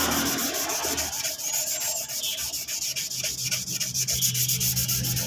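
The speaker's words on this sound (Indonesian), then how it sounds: "Kita gosok semuanya terlebih dahulu, nanti tinggal penyemprotan saja." Steady, continuous sanding of a car body being prepped for candy red spray paint, a close, loud abrasive rubbing with rhythmic strokes throughout and no voices.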